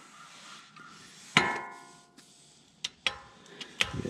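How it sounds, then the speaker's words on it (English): Half-inch drive torque wrench being set to 29 foot-pounds during a fluid service on a 5th-gen 4Runner, giving one sharp metallic click followed by several lighter ticks and clicks close up, with no talking. "Let's go ahead and adjust my torque wrench."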